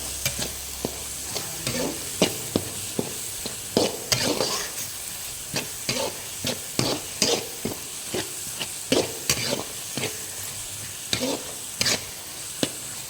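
Ingredients for an ennai kathirikai kuzhambu sauté in a pan, a soft constant sizzle with many sharp stirring scrapes and taps in an uneven rhythm, close and without talk.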